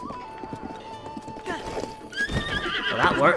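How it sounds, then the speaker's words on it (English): Horse in Zelda Breath of the Wild: steady hoof clip-clops, then a loud, rising neigh that swells near the end, with a voice talking faintly underneath. "I can use my horse."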